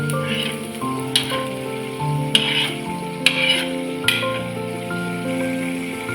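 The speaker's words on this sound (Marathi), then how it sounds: "कांदा छान गोल्डन ब्राऊन होईपर्यंत आपण परतून घेऊया" Sliced onions sauté in hot oil until golden brown for a dry raw jackfruit bhaji, giving a continuous sizzle punctuated by about four sharp spatula knocks against the pan, heard over background music with no talking.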